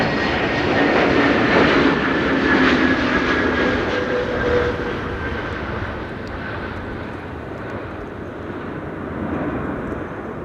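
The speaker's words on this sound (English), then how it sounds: "This is KLM Flight 1776 arriving from Berlin," KLM Airbus A321neo jet arriving from Berlin at Amsterdam Schiphol in storm-force high winds, a loud broad engine roar with a whining tone that peaks early, then settles into a steady rushing drone mixed with wind.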